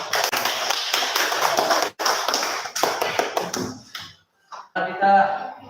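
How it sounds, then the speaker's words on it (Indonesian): Classroom applause for a student group fills most of the clip as dense, close clapping from many hands, breaking off briefly before a second, shorter burst, with a voice speaking near the end. "Kita berikan tepuk tangan untuk kelompok."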